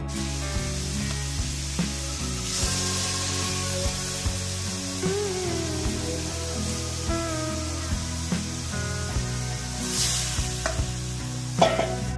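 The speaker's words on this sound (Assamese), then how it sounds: "গৰম তেলত প্ৰথমে মাংসখিনি ভাজি লৈ কেনেকৈ বনাই আছে মই দেখাই দিছোঁ আপোনালোকক।" Steady sizzling of mutton frying in hot oil, with occasional stirring scrapes and clinks from a utensil against the pan; no voices.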